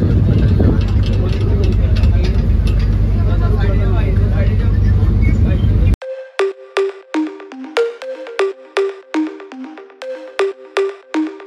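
A boat engine rumbles loudly and steadily as the boat sets off, then cuts out abruptly. A series of clear, rhythmic electronic beeps or tones follows.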